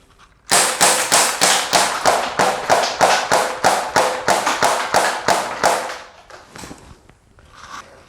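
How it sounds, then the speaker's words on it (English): A BB gun fires rapidly at a window, giving a fast, even train of about eighteen sharp, loud snapping impacts in close succession, then a few fainter ticks as the volley stops. "we're going to try a little bit of rapid fire on this window and see if I can just shatter it"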